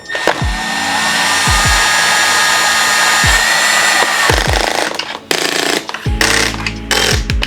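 Cordless power drill with a 2mm hex extension and low clutch setting driving small screws into an E-flite Habu XS RC jet, several short whirring bursts with spin-downs and clicks, close and loud.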